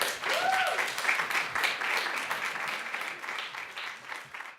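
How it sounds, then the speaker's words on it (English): A symposium audience applauds two student presenters, a full burst of clapping that swells early then gradually thins and fades toward the end, with a brief whistle-like tone near the start. "give a round of applause for Jamin and Professor Burton"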